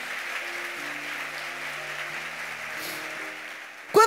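A church congregation applauds in a steady, moderately loud patter of clapping, with faint organ or keyboard tones sustained underneath and a sudden louder burst at the very end.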